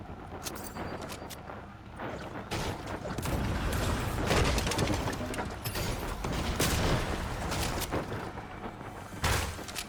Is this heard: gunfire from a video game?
yes